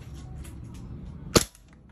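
A single sharp shot from a WE G18c gas blowback airsoft pistol fired on semi-auto, a crisp crack with a quick mechanical snap that stands alone over quiet room noise.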